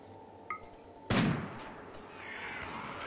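RimWorld gunfire as an inferno cannon and a minigun fire on centipede mechanoids: a sharp blast followed by a sustained rushing roar of fire, with a faint earlier pop, at moderate loudness.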